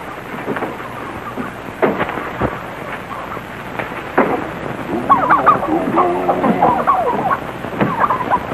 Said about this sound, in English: I'll be down in the basement feeding the turkeys